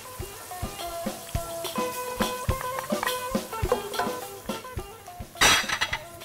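Chickpeas tipped into a sizzling sauce in a pan for a Barania recipe, with repeated metallic clinks of utensil against cookware over a steady frying hiss and a louder burst of sizzle near the end.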